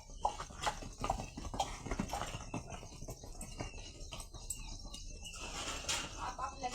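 A cow is untied and led out in a farmyard, its hooves clopping irregularly with scattered knocks and clatter, fairly faint and continuing throughout.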